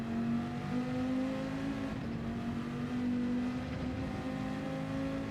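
Race car engine from Gran Turismo 7: a steady, loud drone held at high revs through a corner, continuous with no speech.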